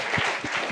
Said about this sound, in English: Excellent. A round of applause.